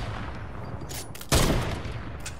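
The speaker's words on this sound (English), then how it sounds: "I'm gonna shoot that rock." A single loud gunshot fired at a rock in a shooter video game, a sharp broadband blast at about 1.3 seconds that decays over the following second against steady game ambience.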